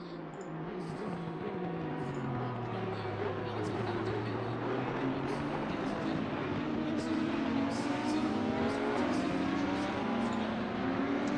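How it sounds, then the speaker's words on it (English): GT3 race cars in Assetto Corsa Competizione roar down the back straight at Circuit of the Americas, with engine notes rising and sweeping as the cars pass in a continuous, loud train, and no speech over it. "look at this train of cars coming down this back straight now"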